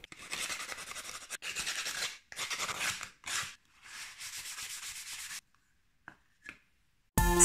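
Sandpaper rubbed over a surface to prepare it for decoupage, a close, raspy scratching in several back-and-forth bursts with short gaps, ending with a few faint taps and silence; no voices.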